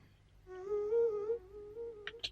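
A dry vocal cut sample from a melodic drill beat, with no reverb or delay: a clear sustained sung tone with a slowly shifting pitch, followed by two short percussive clicks at the end.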